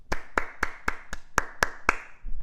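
A round of applause given by a single person, eight sharp, evenly spaced hand claps ringing close and clear, then stopping.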